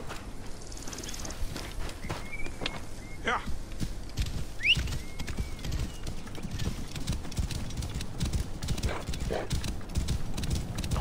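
A horse galloping in the Assassin's Creed Origins video game on PS4 Pro, rapid steady clip-clop hoofbeats throughout with brief whinnies, close and fairly loud, with bits of talk mixed in.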